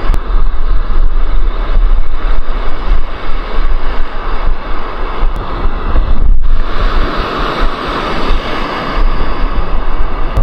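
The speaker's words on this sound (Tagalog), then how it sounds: "Malalaki na yung alon." Loud, continuous ocean surf roaring against a beach in Eastern Samar, Philippines, with heavy wind buffeting the microphone throughout, no voices.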